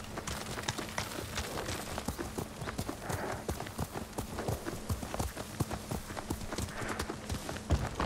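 Hooves clatter fast and steady as a horse gallops in the video game Ghost of Tsushima, a dense unbroken clip-clop running the whole time over a rushing outdoor backdrop.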